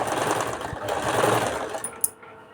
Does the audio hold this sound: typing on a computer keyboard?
no